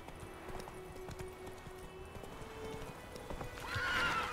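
A horse ridden in The Witcher 3 video game, heard as steady hoof clip-clops at low level, ending in a clear rising whinny.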